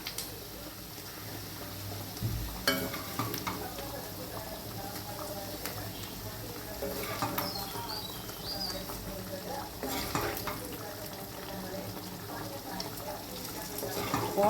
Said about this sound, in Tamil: இப்போ நம்ம சிக்கன் போட்டுக்கலாம்